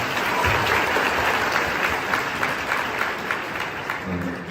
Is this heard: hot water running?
no